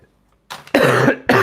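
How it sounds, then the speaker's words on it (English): Two harsh, loud coughs close to the microphone from a person with a lingering chesty cough, following a short quiet pause, with no speech. "Still got a nasty cough."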